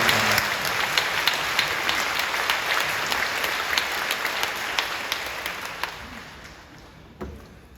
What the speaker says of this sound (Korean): 큰 감사의 박수 드리겠습니다.